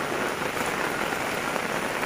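Heavy rain pouring steadily over an open-air market, a dense, continuous hiss of drops drumming on surfaces with no voices.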